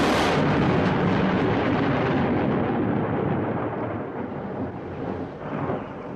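Thunder from an August summer storm, a long deep rumble that starts loud and slowly fades, with possible rain hiss beneath and no talking.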